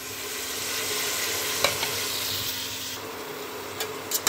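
Mutton sizzles steadily in a hot pan while being stirred, with a few scraping knocks toward the end.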